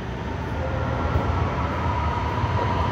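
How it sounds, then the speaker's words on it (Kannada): A metro train pulls into a Shenzhen station, producing a loud, steady rolling rumble that fills the platform without pause. "ನಮ್ಮದು ಟ್ರೈನ್ ಬರ್ತಾ ಇದೆ ನೋಡಿ"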